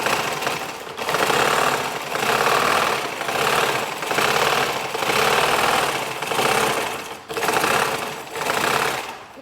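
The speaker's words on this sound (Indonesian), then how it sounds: "ini saya coba jahit selurus mungkin" A black sewing machine runs steadily while stitching a straight seam, its fast needle clatter swelling in repeated long bursts with brief dips between, loud and close with no talking.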